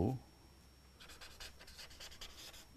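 A sentence is written by hand, a soft continuous scratching of pen or pencil on paper heard up close, quiet and steady after a brief voice at the start.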